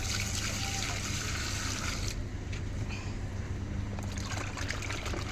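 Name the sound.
pouring water to wash salted fish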